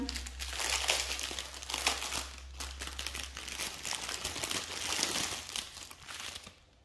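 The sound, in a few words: plastic packaging crinkling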